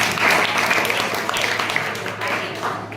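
Schoolchildren clap together in a classroom, a steady, dense burst of applause filling the whole moment, fairly loud and close, with a faint voice underneath.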